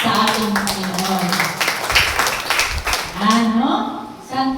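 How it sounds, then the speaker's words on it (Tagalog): Chapel congregation at a Catholic Marian seminar bursts into sustained applause, dense and lively clapping from a crowd indoors, with a voice speaking over it throughout. "Malakas sa palakpak sa ating Panginoon."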